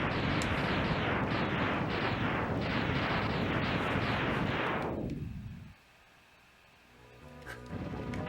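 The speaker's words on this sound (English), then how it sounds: "Those explosions." A dense, continuous barrage of loud explosions and booms from the SNES game Mega Man X that suddenly cuts off, leaving a quieter tail as the sound builds again.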